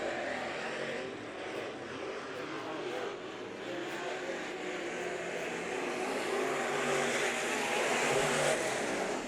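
Topless modified race cars lapping Bakersfield Speedway, a steady engine roar that swells slightly as they pass, with talk mixed in.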